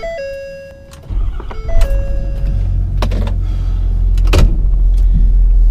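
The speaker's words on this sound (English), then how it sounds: "Gotta move the truck so I can get the lawnmower out." A pickup truck starts with a short series of dashboard chimes, then its engine settles into a steady low rumble that grows slightly as it moves off, close and loud with no talk.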